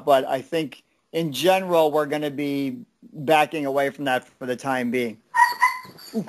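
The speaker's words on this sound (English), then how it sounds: "Dog, if you were wondering what that noise was." A dog under a chair whimpers and gives a brief high whine near the end, faint and mostly buried beneath someone talking throughout.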